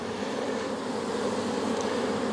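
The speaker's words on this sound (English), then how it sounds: "Lots of bees queuing now on the outside of the frame." Honeybees swarm densely around a hive frame, a steady close hum of wings sustained without break and no voices.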